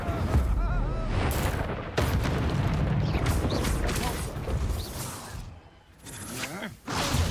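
Incendio fire spell cast during a duel in Hogwarts Legacy, dense whooshing blasts and booming impacts layered over one another, loud and close amid combat noise.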